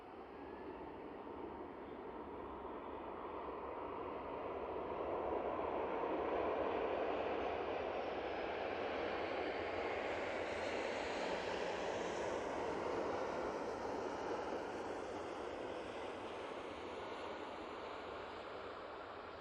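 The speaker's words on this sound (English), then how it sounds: "Ryanair now touching down." A Ryanair airliner touching down at Manchester Airport, its broad engine roar and rushing air noise swelling steadily and holding loud and close for the whole stretch, with no talking over it.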